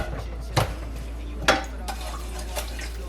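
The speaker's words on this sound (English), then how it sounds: "Just add some soap. I'm hand washing this." Dishes clinking and scraping in a sink, with a few sharp clatters spaced apart over a steady low hum.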